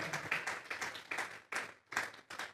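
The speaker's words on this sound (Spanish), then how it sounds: "Vamos a darle una ofrenda de palmas a Dios en esta" A church congregation claps together in a clear rhythmic beat of strong unison claps with short gaps between them, moderately close and heard without talk.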